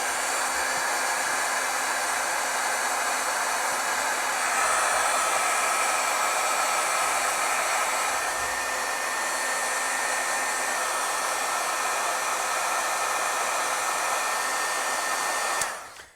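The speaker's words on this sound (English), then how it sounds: "Let's heat set it a little bit and let's see how it reacts to the drying process." A heat tool blows a constant, loud whooshing roar to heat-set stamped ink on a card, running unbroken for about fifteen seconds before cutting off abruptly.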